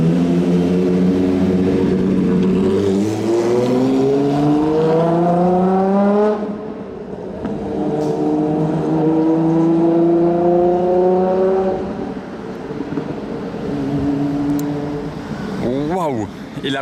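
A Ferrari F50 revs its engine through its exhaust in three rising sweeps, climbing in pitch, easing off and climbing again. It sounds loud and close, as on a street in Monaco.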